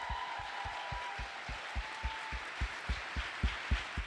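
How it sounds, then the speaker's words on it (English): Audience applause for Mayor Vi Lyles at a rally with Vice President Harris: a steady wash of clapping and crowd noise, with a regular deep thumping beat running beneath it throughout. "Please give her a round of applause."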